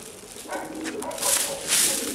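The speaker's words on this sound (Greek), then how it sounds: "βγήκανε τα πουλιά" Pigeons take off and flutter outdoors at a diving-pigeon training session in Perama, with a few wing flaps and faint cooing under a voice.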